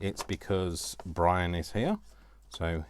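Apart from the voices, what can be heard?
No distinct noise like a dog, phone or traffic.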